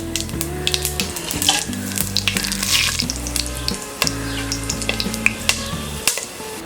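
Shahi jeera and whole spices sizzling loudly in hot oil and ghee, a steady crackling fry broken by stirring scrapes and small pops, close up with no voices.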